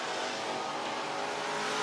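Race car engine roaring steadily and loud on a dirt track at Whynot Motorsports Park in Meridian, Mississippi, a sustained high-revving drone with no talk over it.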